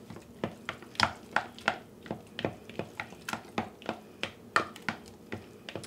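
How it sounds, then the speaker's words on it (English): Drained pineapple being stirred into a creamy pudding, a spoon tapping and scraping the bowl in a steady series of sharp, close clicks, about two to three per second. "Give it a nice stir."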